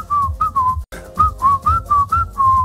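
Someone whistles a wavering melody in short repeated phrases, with a brief pause partway through, close and fairly loud over a low background rumble.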